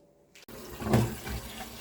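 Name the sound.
pouring water for cooking noodles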